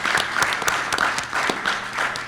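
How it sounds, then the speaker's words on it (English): A seated audience at a cancer-care panel in Miami breaks into a round of applause, dense steady clapping with a few sharper individual claps, fairly close and filling the whole moment without talk. "A big round of applause to them for sticking around till the very end."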